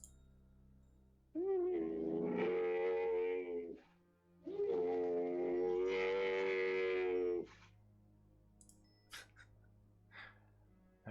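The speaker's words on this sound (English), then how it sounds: "I'll play the mummy sound extended." A mummy creature from the game Daggerfall lets out two long, drawn-out moaning groans, loud and close, followed by near silence with a few faint clicks.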